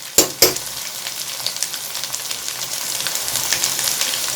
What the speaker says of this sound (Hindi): अब इसमें मैं लहसुन अदरक पेस्ट डाल दूंगी हाफ चम्मच